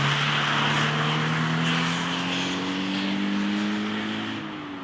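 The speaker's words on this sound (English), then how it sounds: "powered by a high-revving naturally aspirated 2-liter boxer engine developing 200 horsepower" A Toyota GT86 with a naturally aspirated 2-liter boxer engine accelerates hard, its rising engine note climbing steadily and staying loud and close throughout, with no talking.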